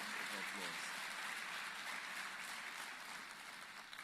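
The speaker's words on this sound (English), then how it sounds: "Let's give them that round of applause." Steady applause from an audience at an education conference addressed by the president, honoring educators; a continuous broad clapping texture running evenly throughout.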